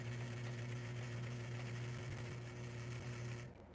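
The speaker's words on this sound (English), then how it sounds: "Okay, so I'm gonna put a little pressure back here and we're gonna sew." Sewing machine stitching an invisible zipper into a bias-cut dress, a steady close-up motor hum with rapid needle rhythm running continuously, then stopping abruptly at the end.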